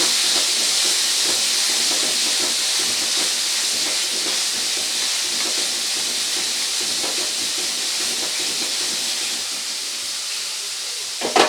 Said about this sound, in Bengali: এরপরে সমস্ত কিছুকে একসাথে খুব ভালো করে কষিয়ে নেব।